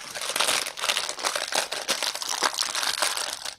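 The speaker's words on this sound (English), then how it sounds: "Just taking out the crisps." A crisp packet is opened and handled near the microphone, giving several seconds of continuous, loud crinkling and rustling plastic with no talking.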